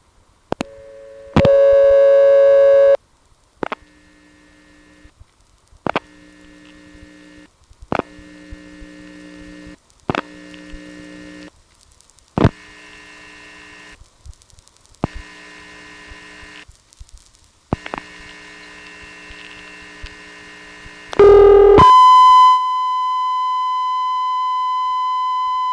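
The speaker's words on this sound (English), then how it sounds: "Here's a call to a local 1 kilohertz tone test line in the Cabot CO." A 1 kHz test tone from a local telephone company test line in Cabot, Vermont, 1978, heard as a steady, loud, pure whine after a series of clicks and switching tones from an independent step-by-step exchange.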